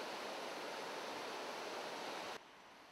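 Rushing water of an Appalachian stream along Hurricane Creek, a steady close broadband wash that holds level, then drops abruptly to a softer flow near the end.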